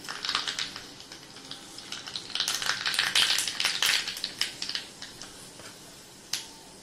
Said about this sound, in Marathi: चटणीला फोडणी देण्यासाठी तेल कडक गरम करून घेतलंय। त्यात टाकून घेऊया मोहरी,